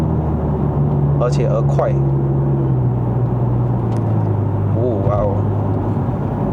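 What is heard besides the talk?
Mercedes-Benz C180 9G-Tronic transmission shifting gears while driving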